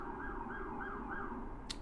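A faint distant siren wailing up and down over low background rumble, with a brief click near the end.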